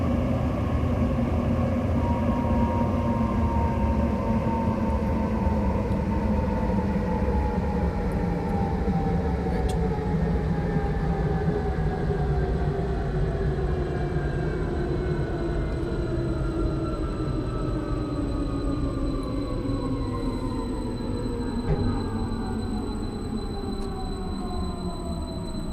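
A Roblox train rumbles steadily and loudly throughout, a continuous deep engine and rolling drone with slowly shifting tones and faint high whine, no talking.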